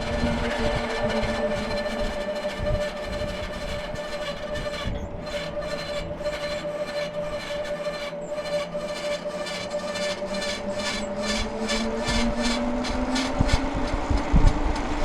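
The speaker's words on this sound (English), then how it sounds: "the motor's very quiet, and the rubbing got a little bit less right there" Mooncool TK1 folding electric trike riding along, a steady loud whirring hum of the motor with a continuous rubbing drone from the wheel, rising slightly in pitch near the end, with no talking.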